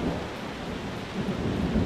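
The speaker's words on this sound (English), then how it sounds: "It's raining all over my new truck." Steady rain and rumbling thunder in the Euro Truck Simulator 2 driving game, falling over a new Scania Streamline truck, a dense continuous wash of noise with no voices.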